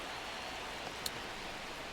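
Rain falls steadily over a ballpark in the baseball video game MLB The Show 26, a soft continuous hiss with a couple of faint tapping drops and no talk over it.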